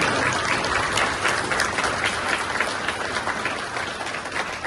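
Steady, dense applause from an audience at a train naming ceremony for unit 465908, sustained and fairly loud throughout with no talking over it.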